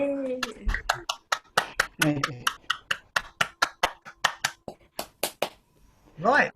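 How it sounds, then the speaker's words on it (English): A workshop audience from a pipe and tabor society's basse dance session gives a round of applause: a run of sharp, evenly spaced claps, close and clear, with voices talking briefly at the start and the end. "can we give Bill a big round of applause"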